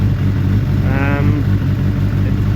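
A Suzuki Bandit 600 motorcycle engine idling in gear after crash repairs, a loud, close, steady throb with a brief rising rev in the middle.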